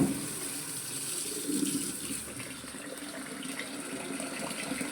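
Barnyard millet (bhagar) grain being washed in water, a steady continuous splashing and running-water wash, fairly close and even throughout, with no talk.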